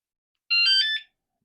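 A bicycle or motorcycle alarm gives a single short electronic beep, bright and close, as it is armed, with silence on either side.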